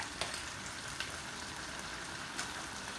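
Carrot, spring onion and other vegetables stir-frying in a pan for Thai pork fried rice, a soft steady sizzle with a few faint clinks, heard alone.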